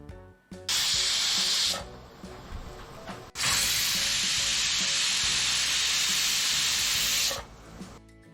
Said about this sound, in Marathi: कुकरच्या दोन शिट्ट्या झालेल्या आहेत